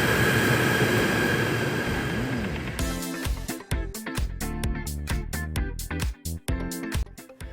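An ETS3 electric train passes close by heading towards KL Central, first a rising rushing whoosh, then a loud run of rhythmic wheel clatter and rumbling as the carriages go past, with no talk.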